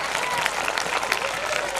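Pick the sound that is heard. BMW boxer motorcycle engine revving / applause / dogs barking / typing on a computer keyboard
applause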